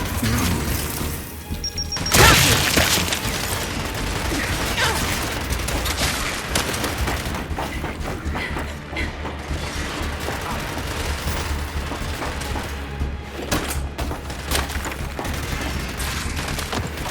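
A frag grenade thrown in the Gears 5 video game, a heavy blast and crash early on, followed by a long stretch of dense, noisy battle rumble and clatter.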